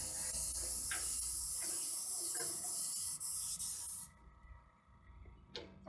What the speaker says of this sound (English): now that my last coat is sprayed